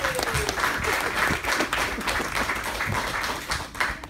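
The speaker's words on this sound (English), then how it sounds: "Round of applause for that, everybody." An audience claps for a retirement speech about a father who retired as CEO of CS Group, producing a steady wash of applause that lasts the whole stretch without fading.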